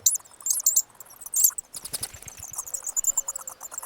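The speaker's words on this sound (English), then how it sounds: "Bats have a variety of chirps and squeaks that you can hear if they perch in the trees above or" Bats chirping and squeaking from trees overhead at a campsite, with repeated high, thin chirps and squeaks arriving in bursts and clusters, fairly close and moderately loud, and no voices.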